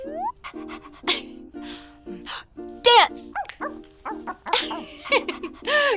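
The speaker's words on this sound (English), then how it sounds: "I was just finishing up a little doggy training session with my best dog" During a training session a dog whimpers and barks, with short yips and whines scattered through lively, fast talk from a person nearby.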